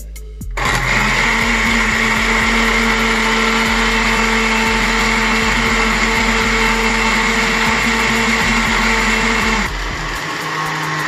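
A blender runs steadily for about ten seconds, whirring loud and close as it purees an Irish moss drink with water, then winds down near the end.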